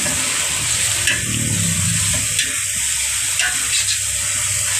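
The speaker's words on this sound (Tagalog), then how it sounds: "Tapos, haluin na po natin." Meat sizzling and being stirred in a pot for lugaw, a steady loud frying hiss with occasional scrapes and clinks of the utensil, close and continuous, with no talking.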